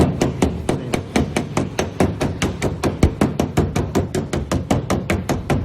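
Rapid, steady hammer blows, about five per second and loud and close, driving a heat-shrunk steel piece into place on a 1965 Chevrolet Impala convertible.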